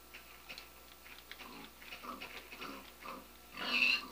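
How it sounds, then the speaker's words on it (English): Pigs oinking in the Minecraft video game on Xbox 360, a few short grunts scattered through quiet game ambience, with a louder burst of noise near the end. "Look at all the pigs!"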